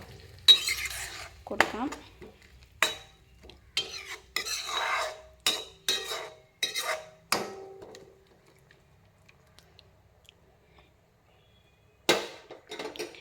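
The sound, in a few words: stirring paneer biryani mixture in pot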